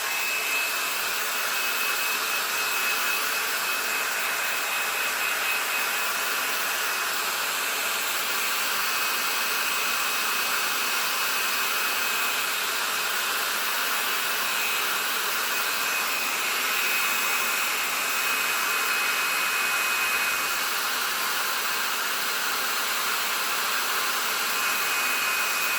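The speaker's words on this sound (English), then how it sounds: "I'm going to use a hair dryer on it" Hair dryer blowing steadily on a freshly painted tea towel, a continuous airy whine and rush that stays constant and close throughout with no talking.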